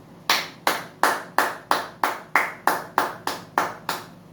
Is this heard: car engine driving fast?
no